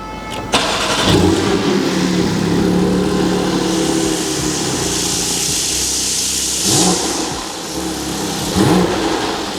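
A Porsche GT4 RS sports car engine cranks and fires up with a sharp catch, then settles into a loud rumbling idle with a couple of revs near the end.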